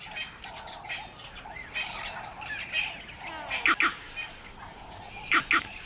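Harsh bird squawks and monkey alarm calls ring out against a forest background as a bird takes flight from a stalking leopard, with a few sharp, loud bursts near the end.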